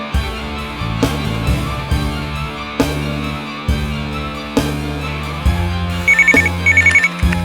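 A telephone rings several times in a tense crime-drama scene, its bright repeated trill cutting through loud, dramatic music that swells and pulses beneath it.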